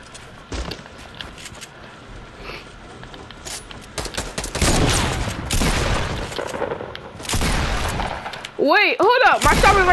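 Gunfire in Fortnite: repeated loud shots and bursts scattered through a busy stretch, with a sharp blast near the end, all under excited talking from a player.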